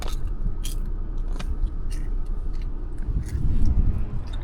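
Someone bites into caramel popcorn on a hot day trip, with crisp close-up crunches and chewing sounds, several bites in a row and no talking.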